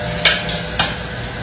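Fish deep-frying in hot oil gives a steady close sizzle, with two brief louder bursts of spatter as pieces shift or are stirred, and no voices.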